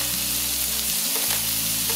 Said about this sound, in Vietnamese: bây giờ mình chiên cho nó nóng lên